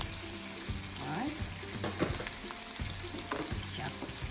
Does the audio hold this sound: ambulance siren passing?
no